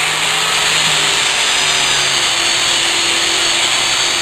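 A power tool grinds steadily at high volume, a harsh continuous whine with a buzzing hum underneath and no pauses, with no one speaking over it.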